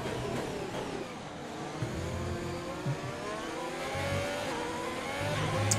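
A Haas Formula 1 car in a racing video game drones with a continuous high-pitched engine whine that rises and falls slightly as it races.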